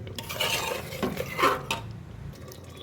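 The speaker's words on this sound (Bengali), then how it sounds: "মাংসের মধ্যে যেহেতু আমি ঝোল রাখবো না, ওই জন্য আমি একটু আস্তে আস্তে সময় নিয়ে রান্না করতেছি" Meat braising slowly in a pot with little liquid, stirred with a utensil that scrapes and clinks against the metal in several short strokes over a soft simmering hiss, with no voices.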